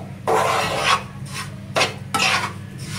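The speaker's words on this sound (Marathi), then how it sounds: "रवा असं छान गोल्डन असं भाजून घ्यायचंय." Semolina is roasted in a pan over medium heat and stirred with a spoon, making three close, gritty scraping strokes separated by short pauses, alone without speech.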